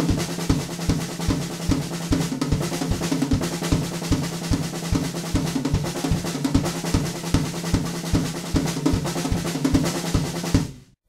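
A drum kit plays a song's beat at full tempo, with steady, regular kick and snare hits and cymbal wash throughout, alone with no talking, then stopping abruptly at the end.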